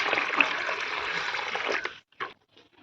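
Water pours in a steady rushing stream for about two seconds onto country sugar being mixed in, followed by a couple of short, soft splashing sounds.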